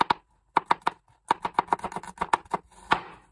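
Knife slicing three garlic cloves on a cutting board: a quick run of sharp, close taps in an uneven rhythm, about fifteen strokes in a few seconds with brief gaps, no voices.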